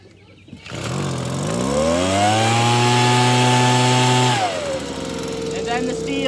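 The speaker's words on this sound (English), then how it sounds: "we gotta get both of the leaf blowers running." A leaf blower engine catches and revs up into a loud, steady drone. It holds for several seconds, then drops to a lower, quieter running pitch.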